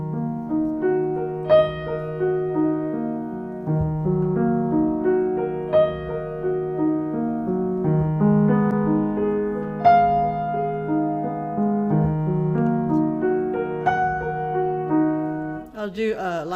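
Solo piano passage with a quiet, hushed accompaniment beneath sharply accented staccato notes that ping out above it at regular intervals, played close and clear without any talking.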